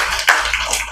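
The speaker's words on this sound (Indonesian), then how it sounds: "tepuk tangan buat April." A classroom of students claps for a classmate in a short burst of applause, a dense, even patter that swells briefly near the start and holds steady to the end.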